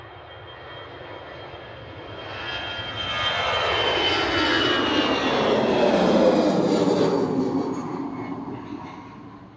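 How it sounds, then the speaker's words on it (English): An EasyJet Airbus A319 jet departing Manchester Airport, its engine roar swelling from a distant rumble to a loud sustained rush as it passes, then slowly fading. "we're going to be able to hear the EasyJet to Faro with flight 7502 departing"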